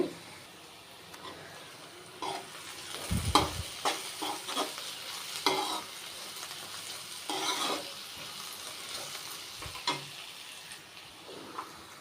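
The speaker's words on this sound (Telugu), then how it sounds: "ఉల్లిపాయ వేగిందండి" Onions frying in a pan for a drumstick curry in a home kitchen, a steady soft sizzle with scattered louder stirring scrapes and clinks of a utensil against the pan, fairly close.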